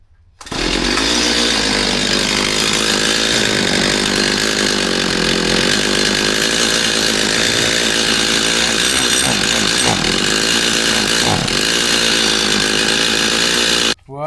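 A Stihl MS250 chainsaw engine of unknown condition idles steadily at close range, a loud continuous buzzing drone that cuts out at the end.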